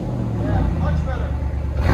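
A Ram 2500 Power Wagon with a 6.4-liter Hemi V8 and the muffler and resonator removed, its engine throbbing loudly and roaring up in a rev, with people talking over it.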